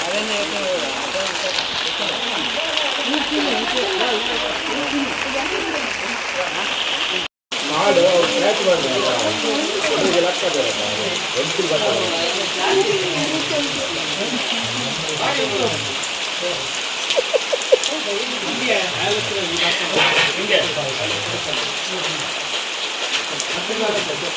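Rain falls steadily on a village in a dense, continuous wash at close range, with a brief dropout early on, while voices talk faintly underneath.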